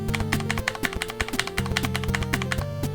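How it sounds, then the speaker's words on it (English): Key presses on a HyperX mechanical keyboard with red linear switches, a quick run of close, crisp clacks and taps in an uneven typing rhythm, heard alone. "That's pretty much as loud as my keyboard's gonna get, and that's me kind of like pressing the down arrow."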